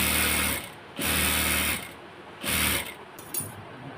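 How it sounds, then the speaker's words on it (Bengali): Sewing machine stitching a narrow hem on ladies' pants, running in three bursts of steady mechanical whirring with brief pauses between, close and fairly loud with no talk. "এখানে এখন মুখটা চিকন করে সেলাই দিতে হবে।"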